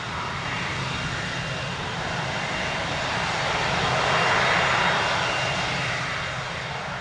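An aircraft takes off from runway 26 left at Spirit of St. Louis Airport. Its engine gives a loud, close, broad roar that swells to a peak midway and then eases slightly, with no voices.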